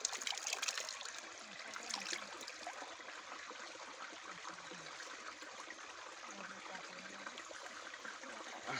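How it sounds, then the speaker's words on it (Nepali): Clean stream water trickles and flows continuously nearby, a soft, steady babbling wash without pauses, fairly quiet throughout. "पानी एकदम सफा छ, चोखो पानी हो गाइजहरू। त्यो पानी हो।"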